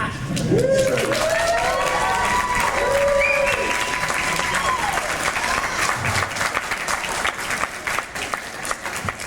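A Comic-Con panel audience in a large hall claps loudly and steadily, with some cheering and whoops rising over the dense applause throughout.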